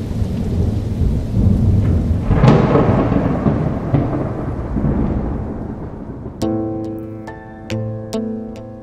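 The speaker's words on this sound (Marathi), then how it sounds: "बाहेर खूपच पाऊस चालू आहे ना?" Heavy rain pours steadily outside with deep rolling thunder booming loudly through the first half, then soft music rises over the fading downpour; no one speaks.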